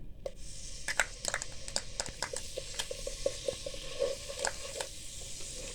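Garlic paste frying in a couple of spoons of oil, a steady close sizzle broken by sharp scraping stirs and small crackling pops, with no talking.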